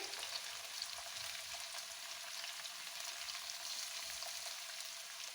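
Cauliflower and carrot pieces cook in a pan for a Punjabi-style sweet and sour pickle, producing a dense, even frying hiss that holds steady from start to finish, close and uninterrupted by any talk.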